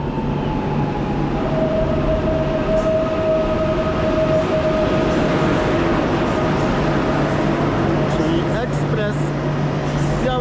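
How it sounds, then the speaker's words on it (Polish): The Esperanto passenger train pulls into Warszawa Centralna station with a steady, loud rolling rumble and faint sustained wheel squeals. The noise holds throughout, with a few brief higher clicks near the end. "Melduje się pociąg Esperanto."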